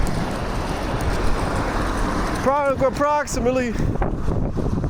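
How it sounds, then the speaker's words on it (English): Strong outdoor wind buffets the microphone with a steady low rumble and roar, and someone speaks briefly partway through. "And it's really windy out here."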